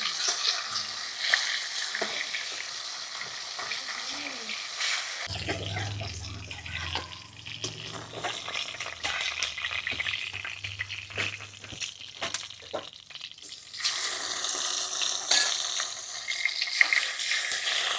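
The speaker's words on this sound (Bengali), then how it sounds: "মাছটা ভালো করে ভেজে নিয়েছি এবার উল্টে দিচ্ছি" Steady crackling sizzle of a marine kokila fish frying in hot oil, with a break of quieter spattering and scraping in the middle as it is flipped before the sizzle returns.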